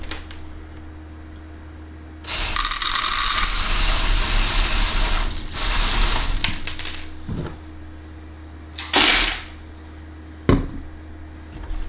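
A homemade automatic dog feeder whirs and rattles loudly for about five seconds as kibble clatters through, followed by a few short mechanical clunks and knocks.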